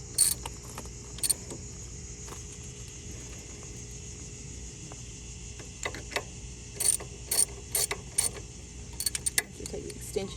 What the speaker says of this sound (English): Grab your 14 millimeter and go ahead and torque those down once you've got them started.